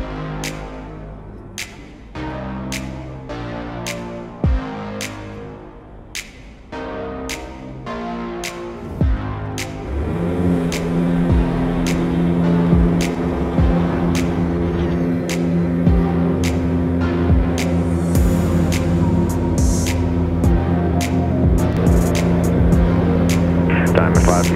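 A Diamond DA40 aircraft engine powering up for takeoff from runway 2, a steady droning hum that swells after the first few seconds into a sustained loud roar, with intermittent clicks and radio-like chatter mixed in over it.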